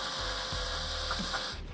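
Phillips screws on a HOGWORKZ 7-inch LED black HALOMAKER headlight for an Indian motorcycle being tightened on a bench with a ratchet, giving a close, steady run of fine clicking ratchet-pawl ticks that fills the short stretch alone.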